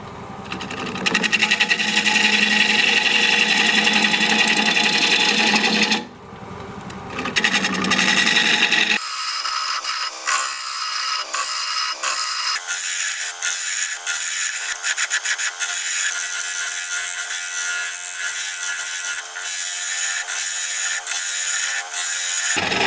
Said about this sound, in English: Still turning at 670, 5/8 inch bowl gouge